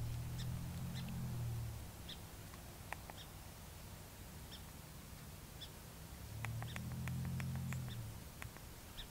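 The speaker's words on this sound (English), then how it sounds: "The first, I'm going to try to do some sort of rabbit distress" A Lucky Duck Revolt electronic predator call playing a rabbit distress sound at level 4, heard as two loud wavering squalling bursts about five seconds apart, with faint scattered clicks between them.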